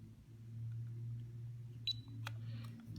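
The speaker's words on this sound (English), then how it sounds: "You'll hear that you get an audible beep and the hexacopter will flash to confirm that the calibration has been complete" Confirmation beep from a JJR/C H20 hexacopter after accelerometer calibration: a single short, faint tone near the middle, followed by a few soft clicks over a steady low motor-like hum.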